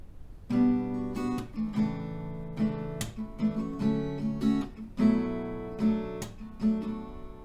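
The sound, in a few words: guitar strumming chords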